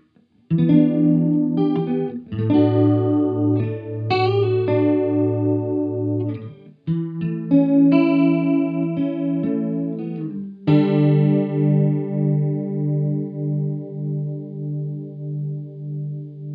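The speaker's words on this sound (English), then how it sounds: "that kind of sounds like a chorus pedal" An electric guitar plays chords and a short riff through a Digitech Luxe detune effect pedal, shimmering and wobbly like chorus, ending on a long chord that swirls as it fades.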